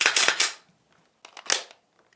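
A Walther P99 pistol being function-checked after reassembly gives sharp metallic clacks of the slide and trigger, two quick clusters of close mechanical snaps separated by a short silence.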